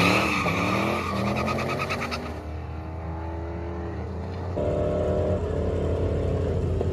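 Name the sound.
junkyard turbo Corvette launching down drag strip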